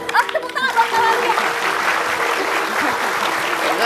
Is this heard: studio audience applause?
yes